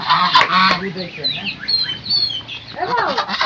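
Ducks at a rural village home give a burst of nasal, honking quacks, loud and close, that pause briefly and then return in a second cluster.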